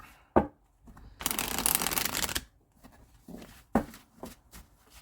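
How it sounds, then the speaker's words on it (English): Tarot cards being shuffled by hand, with brief soft taps and slides followed by a sustained riffling burst lasting about a second, then a few more scattered card slaps and shuffles, close and alone. "I want to shuffle up and pull maybe a couple 3 cards."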